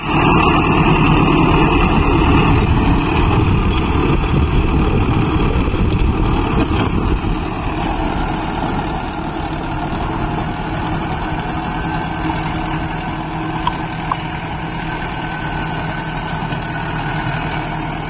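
A Mahindra 605 Novo tractor runs steadily at about 1300 RPM in third gear, pulling a rotavator through sorghum field soil, with a loud, continuous low engine drone and a rumbling that eases slightly after the first few seconds.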